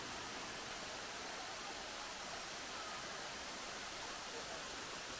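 Anachadikuthu waterfall pouring into a wide shallow pool, heard as a steady, broad rushing roar that is constant and fairly distant, with no voices over it.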